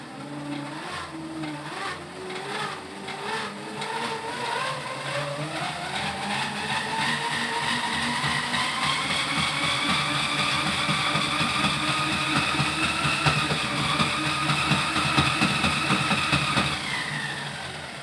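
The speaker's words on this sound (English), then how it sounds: "Here I've got a 24-volt industrial worm drive motor." A 24-volt industrial worm drive motor spins a 3D printed three-phase generator, giving a steady whining drone whose pitch climbs over the first few seconds and then holds loud and continuous until it winds down near the end.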